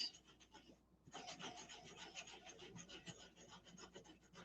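An emery board rubs back and forth along the edges of a rubber-stamped handmade card, giving a steady, close, dry rasping scrape in quick repeated strokes after a brief pause near the start.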